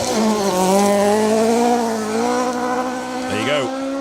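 An Escort rally car on a forest stage passes close by spectators, its engine a loud sustained rasp with a rising then falling pitch as it goes past, a brief blip near the end.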